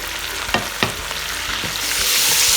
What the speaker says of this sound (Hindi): चिकन को फ्राई कर लेंगे अच्छी तरह।